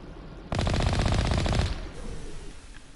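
Automatic gunfire in the Mass Effect video game: a loud, close burst of rapid shots lasting about a second, followed by fading echo and background game ambience.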